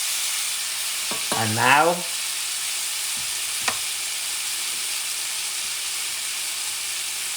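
A salmon steak sizzles steadily in a hot pan after being flipped, a constant bright hiss with a brief spoken phrase over it and a small clatter early on.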